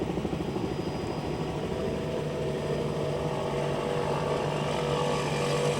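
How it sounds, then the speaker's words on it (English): A racing powerboat engine drones steadily at a distance, a rough, constant roar with a flat, slightly buzzing note and no voices. "That one engine, can you hear that flat note?"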